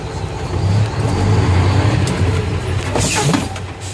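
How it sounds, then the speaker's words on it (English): A tractor-trailer rolls slowly at under five miles per hour during a service brake test, a steady low engine rumble with a brief hiss and squeal of the air brakes near the end, close and loud. "Get this rolling, make sure that my service brakes are working."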